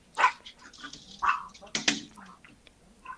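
A pet dog indoors in a home gives a few short barks and whimpering yelps, close and fairly loud, scattered irregularly through the moment.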